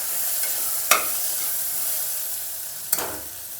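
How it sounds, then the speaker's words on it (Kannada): Green peas frying for palau in a pan give a steady, close sizzle, broken twice by short scraping knocks of a stirring spoon, with no talking. "ಈ ರೀತಿ ಚೆನ್ನಾಗಿ ಫ್ರೈ ಮಾಡ್ಕೊಳ್ಳಿ."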